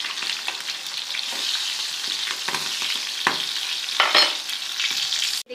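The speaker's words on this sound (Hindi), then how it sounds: "इसको इस तरह चम्मच से उलट पुलट करते रहें ताकि ये जले नहीं" Green chillies fry in a pan while a spoon turns them over, a close, continuous crackling sizzle broken by scraping strokes and a few sharper clinks against the metal.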